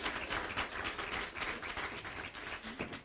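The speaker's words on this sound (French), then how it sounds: "on applaudit monsieur" At a Caribbean Christmas contest, an audience applauds the contestant Nicole Maradona with steady, fairly faint clapping that holds evenly throughout.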